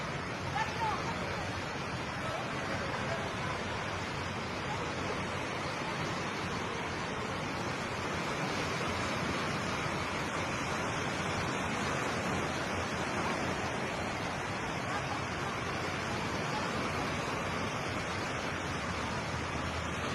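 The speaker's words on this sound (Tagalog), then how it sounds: "oh, nimbalik ng dagat, nimbalik na." Sea waves surge along a shore in Davao Oriental after a magnitude 7.6 earthquake, a continuous loud roaring wash of surf, with people talking faintly in the background.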